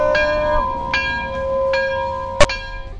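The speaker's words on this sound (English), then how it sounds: "Somebody ring the bell." A bell rings with four sharp strikes, each leaving a sustained ringing tone, the last strike loudest.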